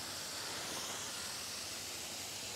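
Diluted homeopathic medicine is sprayed onto the leaves of young plants, a soft, continuous misting hiss that stays even and faint throughout.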